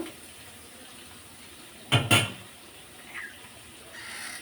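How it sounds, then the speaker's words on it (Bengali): Water poured into a pan of frying dried fish, a brief loud splash and burst of hissing close by, then a quieter steady sizzle. "একটু পানি ইউজ করব, যেহেতু আমি ভাজাতে তেমন ঝোল রাখবো না।"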